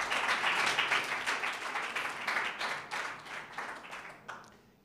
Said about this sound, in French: on va applaudir pour eux, s'il vous plaît